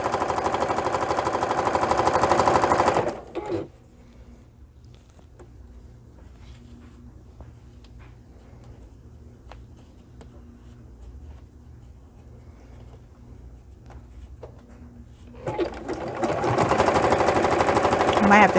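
A sewing machine stitches the straps of a homemade protective mask, a steady close mechanical whir running alone through the middle after louder sections with talking at the start and end.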